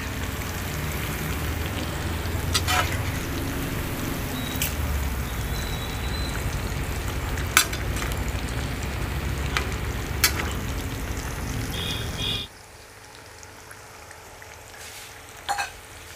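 Prawns fry in hot oil with a steady, busy sizzle and scattered pops and clinks, moderately close, before the crackle abruptly drops to a faint hiss near the end.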